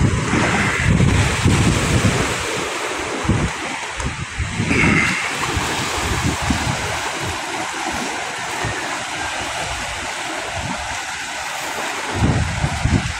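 Heavy ocean surf on Manila Bay roars continuously with repeated crashing large waves, mixed with strong wind buffeting the microphone, loud and close.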